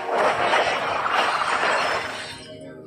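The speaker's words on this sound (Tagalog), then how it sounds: "Oh, basag na third tower." A tower being destroyed during a Mobile Legends tournament match, a loud sustained crumbling, shattering crash that holds for about two seconds before fading off.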